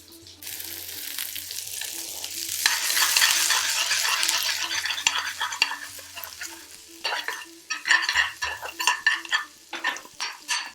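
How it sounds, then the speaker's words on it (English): Green chillies sizzle and fry with softened onions in a hot pan for a fiery Chicken 65 dish, a steady loud hiss with stirring scrapes and utensil clinks growing busier toward the end. "let's throw in the green chillies"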